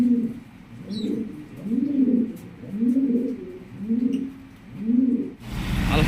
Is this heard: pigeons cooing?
yes